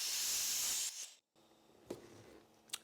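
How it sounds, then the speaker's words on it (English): Air hisses loudly out of a compressor powered by a Ryobi 40V power station, a strong continuous rush that cuts off abruptly, followed by a few faint clicks and knocks. "Let's let some air out real quick though."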